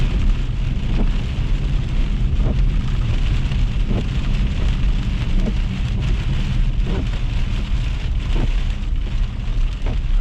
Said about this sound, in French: C'est du gros grésil.